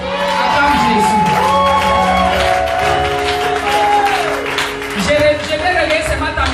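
A church congregation at a worship service cheering and acclaiming Jesus, with a sustained roar of many voices, shouts and whoops. Some people call out above the crowd.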